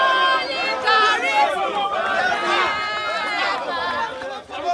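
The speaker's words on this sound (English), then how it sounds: "Yes, you can see the crowd is cheering" A large, excited crowd in Abuja celebrating Omoyele Sowore's release, with many voices shouting and chattering at once in a dense, steady hubbub close by.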